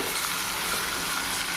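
Spicy Andhra-style mutton curry fries in a pan, giving a dense, steady sizzle with faint scraping as it is stirred, close and continuous with no talk.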